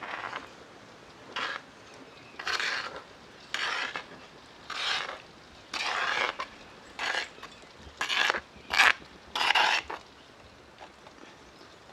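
Flour being stirred in hot homemade cow's-milk ghee for peanut sukhdi: a series of scraping, rasping strokes of a spoon against the pan, about a dozen bursts of varying length separated by short pauses, close and fairly loud.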